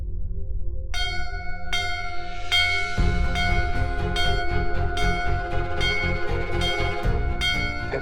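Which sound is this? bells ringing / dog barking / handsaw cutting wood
bells ringing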